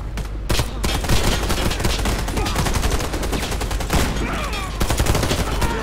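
Gunfire in the shooter Warface, dense rapid automatic shots rattling steadily and loudly throughout with sharp cracks standing out.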